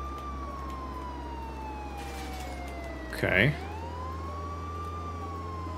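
Police vehicle siren in Contraband Police, a steady wailing tone sliding slowly down in pitch under a constant engine rumble, with a brief spoken word cutting in partway through.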